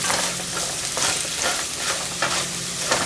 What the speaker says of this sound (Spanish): vamos a mezclar nuevamente para que incorporemos bien la sal en todas las papas